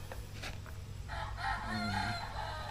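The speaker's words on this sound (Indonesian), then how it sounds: "Ayam nih apa sih?" A rooster crows once, fairly close and loud, its drawn-out call rising over a low background hum after a few short clucks at the start.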